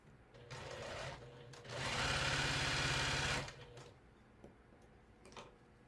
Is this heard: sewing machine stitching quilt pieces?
yes